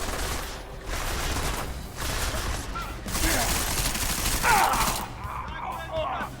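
Gunfire in the video game Deus Ex: Mankind Divided crackles in dense bursts of shots amid game noise, with voices talking intermittently over the action.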